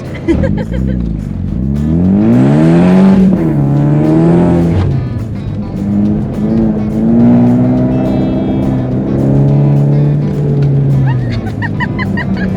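A four-cylinder Mustang accelerates hard on an autocross course, its loud engine climbing through the revs, dropping at a shift and pulling again, close and continuous throughout.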